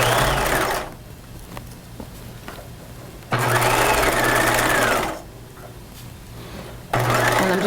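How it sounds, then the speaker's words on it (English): Sewing machine stitches along the back neckline of a cropped retro jacket with aqua fur. It runs in loud, steady bursts of rapid stitching, separated by quieter pauses, with no talking. "So now I'm stitching along the back neckline."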